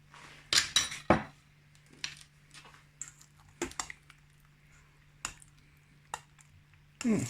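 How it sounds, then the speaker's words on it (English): Curry paste being stirred into a mixture in a bowl, heard as scattered clinks and scrapes of a utensil against the dish with brief quiet gaps, fairly close and moderately loud. "I'll give that a good mix up"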